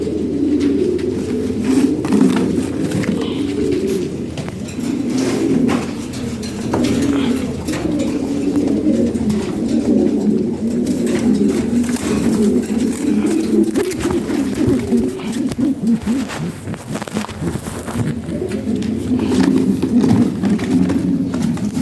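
A loft of fancy pigeons coos continuously up close, the low throaty calls overlapping in a dense, rolling chorus with no pauses.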